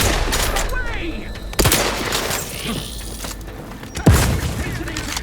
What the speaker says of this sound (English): Administering grenade! Grenade! Away!